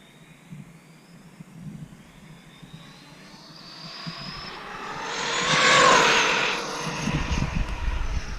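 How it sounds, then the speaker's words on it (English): An Arrma Typhon 6S RC car, a TLR-tuned build on its stock motor, makes a high-speed pass at around 124 mph, with a thin motor whine that swells to a loud whooshing peak as it passes, then fades off. "Nice clean pass. Car's running super straight."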